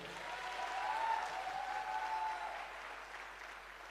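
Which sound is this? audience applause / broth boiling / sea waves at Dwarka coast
audience applause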